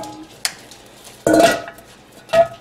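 A casserole dish knocking against a kitchen surface: a small clink, then a loud, ringing clatter, then one more clunk, close and distinct.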